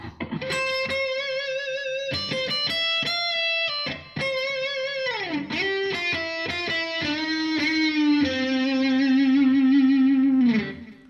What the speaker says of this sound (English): I'm playing distorted sounds, and things without the center block under the bridge